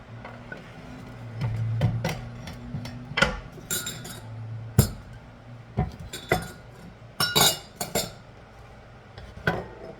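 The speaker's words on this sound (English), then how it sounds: "now I'm going to slice my lemons" Lemons sliced with a knife on a kitchen surface, with scattered close clinks and taps of utensils and dishes, irregular knocks and faint scrapes spread across the stretch, no talking.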